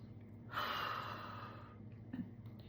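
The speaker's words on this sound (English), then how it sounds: "Nice deep breath." A single slow, deep breath, drawn in audibly and then released softly, close and quiet in a calm room with no other sound.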